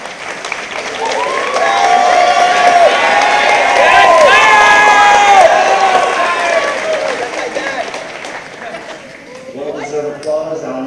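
Applause and cheering at a school moving-on ceremony, a swelling crowd roar with claps and shouts that builds, peaks mid-way, then tapers as a voice speaks over it.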